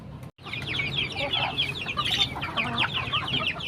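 A flock of backyard chickens clucks continuously at close range, many overlapping chirpy calls forming a busy, steady chatter with no voices.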